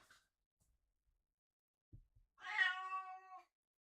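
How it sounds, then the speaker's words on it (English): A house cat meows once, a drawn-out harmonic cry near the microphone, preceded by a couple of soft low thumps in an otherwise quiet room. "It is my cat."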